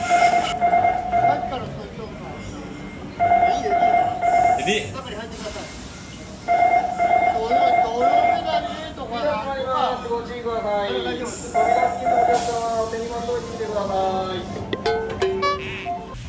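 A train interior in Japan hums and rumbles while repeated electronic chime tones sound close by, with a voice talking over them.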